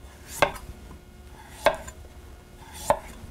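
Knife scraping the skin off a vegetable on a flat cutting surface, three sharp separate strokes spaced about a second apart, close and moderately loud over a quiet background.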